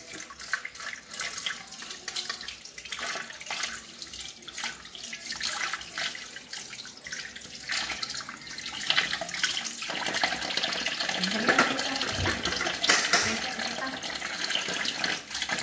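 Water runs steadily from a tap while utensils are rinsed, with occasional clinks and splashes and a few faint voices.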